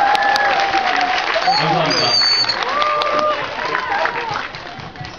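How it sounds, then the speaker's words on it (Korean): Applause from a crowd at a film's advance screening rolls through the whole clip, loud at first and easing off, with a voice speaking over it. "여기 대우들한테 한번 박수 한번 쳐주세요."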